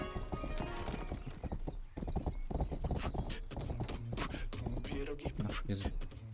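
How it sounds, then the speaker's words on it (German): Horse hooves clip-clop in the video game Rustler, a quick, even run of close hoofbeats that continues throughout the short stretch. "Und ich hier mit meinem roten Pferd"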